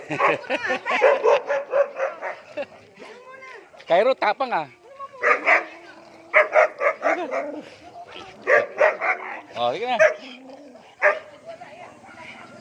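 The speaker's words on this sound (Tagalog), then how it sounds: "may alagang aso" A dog barks repeatedly in sharp bursts with some whimpering yips, close by, while people talk over and between the barks.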